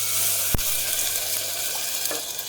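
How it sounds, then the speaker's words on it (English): Water is poured into a hot pot of sweating mushrooms, setting off loud, continuous sizzling up close, with a sharp clank and a light scrape near the start and a quieter bump near the end. "Just gonna add some water in here now."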